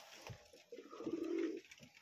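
Pigeons in a loft coo softly, a low throaty burble rising in the middle of the short stretch with a few quieter calls around it, no talk.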